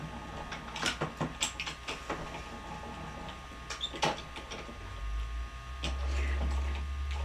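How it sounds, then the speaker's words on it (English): Paper being cranked through an embossing machine, a faint series of irregular clicks and ticks with a low mechanical rumble building toward the end, heard close and quiet. "I'm going to try and put it through one more a little bit tighter because I want my embossing to really stand up."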